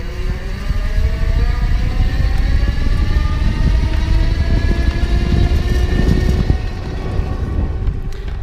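An ElectroBike Dash e-bike hub motor whirs continuously in throttle mode, a steady mechanical hum with rising and falling tonal whine over rushing wind and road noise, fairly loud and close.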